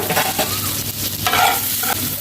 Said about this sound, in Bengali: তো আলুটাকে আগে একটু ভেজে নেব।